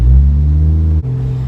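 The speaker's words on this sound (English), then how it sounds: "Luckily, I put an exhaust on it, so it's not loud as hell anymore, but it's still a little loud with the muffler" A 1JZ-engined Toyota Supra fitted with an aftermarket exhaust and muffler drones loudly at steady cruise on a freeway, a deep continuous rumble with a brief dip as the throttle shifts.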